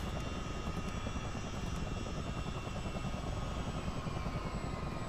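A CH-47D Chinook helicopter in a flight simulator game winds down its engines with a steady, loud turbine whine and rotor rumble that holds without a break.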